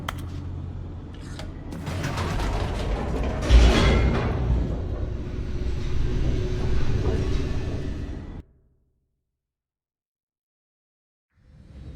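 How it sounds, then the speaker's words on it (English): Elevator in The Stanley Parable racing downward, a loud sustained mechanical rumble with rattling and a thud partway through, ending abruptly in silence. "The elevator raced downward."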